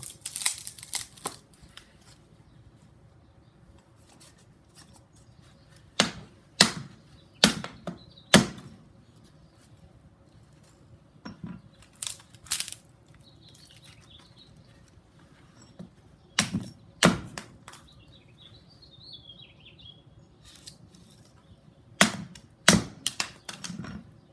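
An Estwing Camper's Axe chops and splits tough wood, with sharp, close knocks and cracks arriving in irregular clusters separated by quieter pauses over faint outdoor background.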